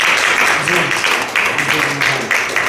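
A church congregation claps their hands in praise, a dense, steady wash of clapping sustained throughout with voices mixed in underneath.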